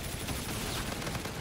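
Suppressed gunfire from a silenced weapon in Call of Duty: Infinite Warfare, heard as a dense, continuous crackle of rapid shots filling the whole clip with steady, even loudness.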